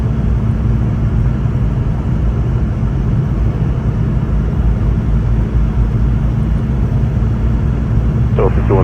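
A Boeing 717-200 airliner powers up for takeoff on runway 30 at Washington Dulles, a steady loud engine roar and rumble filling the whole stretch with no pauses.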